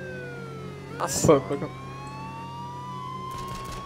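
A police siren in the H1Z1 battle royale game wails steadily in long rising and falling tones behind vehicle noise, with a brief spoken exclamation over it.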